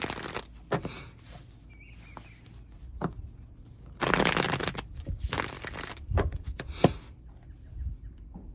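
Cards riffle and snap in several separate bursts, the loudest around the middle, with quiet pauses between shuffles.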